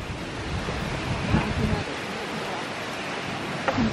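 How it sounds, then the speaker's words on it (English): Steady wind roars across the microphone near the ocean in Skagway, Alaska, a broad continuous rush with faint surf beneath it and brief, quiet voices in the background. "You can hear the wind blowing."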